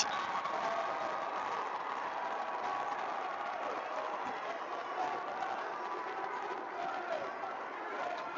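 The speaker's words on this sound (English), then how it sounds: "You can hear the crowd coming to life here at LST." A basketball crowd in a high school tournament gym roars steadily as a broad wash of cheering and noise, with a commentator talking over it throughout.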